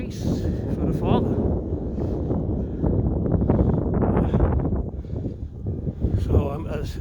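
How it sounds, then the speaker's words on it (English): Wind gusts buffet the microphone outdoors along 23rd Street in the city, a low rumbling roar that swells and fades under a person talking throughout. "So it's very windy out here,"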